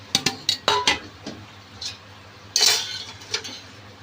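Dry pasta going into a cooking pan with onion, tomato, salt, chili powder and turmeric: a few sharp clinks and taps of utensil against metal, then a brighter rattling scrape, with quiet pauses between.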